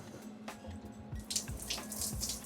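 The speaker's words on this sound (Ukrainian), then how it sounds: "Водичка потекла" Water runs from a household tap after the power is restored, a soft hiss that swells louder partway through, with faint low knocks and clatter mixed in and no talking.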